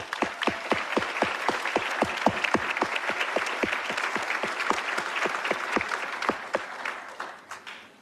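An audience at a college graduation claps in a sustained round of applause, sharp distinct claps blending into a full crowd sound that tapers off toward the end.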